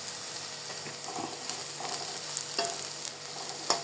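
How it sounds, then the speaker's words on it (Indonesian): Tempeh fries in hot oil in a pan, giving a steady close sizzle with scattered sharp pops and occasional stirring. "Ini tempenya bolo, mulai digoreng ya."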